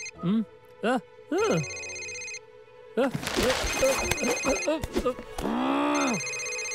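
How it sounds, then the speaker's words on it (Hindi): A phone rings in a library with bright, repeating electronic tones that run under excited voices and a brief loud outburst. "ये किसका फोन है?"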